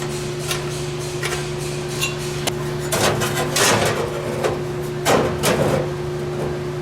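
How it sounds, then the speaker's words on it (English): A few sharp hammer blows on a 1972 Le Mans trunk ring out in irregular clusters over a steady electrical hum, with quieter taps in between. "Oh yeah. Now that's a hammer."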